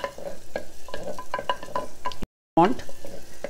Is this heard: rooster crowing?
no